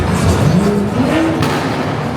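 Cars circle at a midnight car meet in Miami, with engines revving and rising in pitch as they pass close by in a loud, continuous roar.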